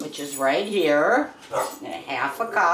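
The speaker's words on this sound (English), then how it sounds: "I got dogs barking" A dog barks and yips repeatedly close by in a home kitchen while a person keeps talking over the noise.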